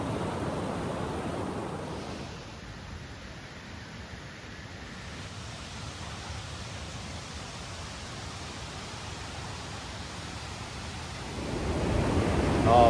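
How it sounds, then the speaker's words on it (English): A waterfall near Rila Monastery in the Bulgarian mountains gives a steady, broadband rushing roar with no breaks, growing louder and closer toward the end. "So you've got a beautiful waterfall just there"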